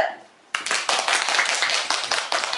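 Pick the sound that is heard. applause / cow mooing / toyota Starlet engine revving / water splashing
applause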